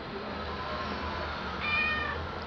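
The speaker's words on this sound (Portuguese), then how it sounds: "Não liga esses barulhos, é porque tem uma gata aqui do lado de mim." A cat sitting right beside a person meows in a short, faint cry of a few pitched notes over a quiet room hum.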